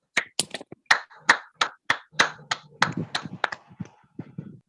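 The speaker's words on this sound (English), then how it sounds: "Please give a virtual round of applause right now as she takes over the meeting." A single person claps for a virtual round of applause at an online Toastmasters club meeting; a dozen or so close, sharp, uneven hand claps, quickening and growing ragged toward the end, with no talk.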